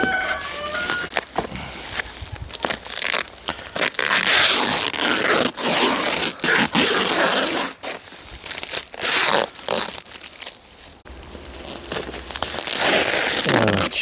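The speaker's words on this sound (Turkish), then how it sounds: "koli bantlarından bir kurtaralım." Packing tape being ripped off a cardboard box holding a new Pawer-brand pruning tool, giving loud, repeated tearing and crinkling bursts that come in quick pulls across the whole stretch, with no talking.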